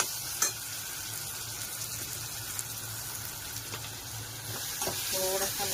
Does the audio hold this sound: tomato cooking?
yes